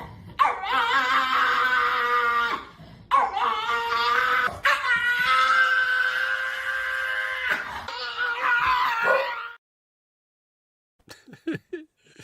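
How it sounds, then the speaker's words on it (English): A dog gives a long, drawn-out series of high, tonal whimpers and yowling howls, close and loud, with brief breaks between phrases. It ends in silence and a few faint clicks. "I know what that other dog's done."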